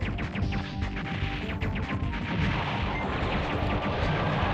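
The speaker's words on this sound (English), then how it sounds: "it's kind of hard to even tell stuff from all the screen-shaping explosions" Dense, continuous barrage of video-game explosions in Silent Bomber, loud and layered throughout with booming blasts overlapping one another and no speech.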